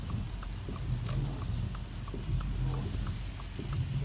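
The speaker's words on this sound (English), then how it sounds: "So now it's mostly rain again." Steady rain falling after a spell of sleet in a mountain area of Southern California, a constant soft patter with no voices.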